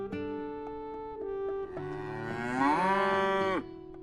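Cattle mooing in a cozy shop sim game: a series of long, tonal, harmonic bellowing calls that swell and bend upward toward the end, loud and close, with no talking.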